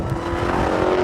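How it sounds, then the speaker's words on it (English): A Dodge Challenger Hellcat's engine roars loudly and close, a deep rumbling exhaust note held steady through a brief burst of acceleration. "it would be really hard to get bored of this exhaust note and just the sheer thrust that is available"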